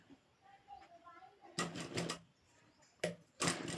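A sewing machine stitches a nighty in two short bursts of fast, close rattling, with quiet sounds in the pauses before and between them.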